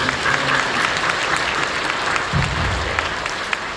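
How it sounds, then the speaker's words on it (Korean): A church congregation applauding during a Christmas worship service, loud dense clapping from many hands filling the room continuously, with faint murmurs underneath. "박수 좀 주세요"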